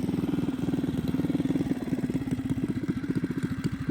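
A small mini bike engine running outdoors in snow, with a fast, even putt-putt pulse that stays close and steady throughout, no voices over it.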